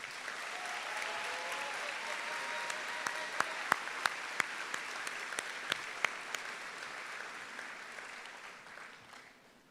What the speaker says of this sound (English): Please show your gratitude towards him with a round of applause.